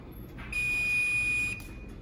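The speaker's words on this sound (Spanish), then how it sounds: "Ya se va la alarma." A kitchen oven alarm gives a single sustained high-pitched electronic beep of about one second, loud and close, with faint background hum around it and no talk.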